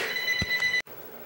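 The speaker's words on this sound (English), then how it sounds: "my phone's been ringing like crazy" A phone rings in a Kingdom Hearts game scene, a bright electronic trill repeating in short bursts before cutting off abruptly, followed by quiet background.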